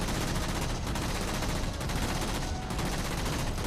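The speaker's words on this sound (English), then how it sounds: "I'm kind of firing and pausing so my guns don't overheat." Dense, continuous gunfire from Halo 4 pours out in loud bursts with brief gaps, close and relentless, with no talking over it.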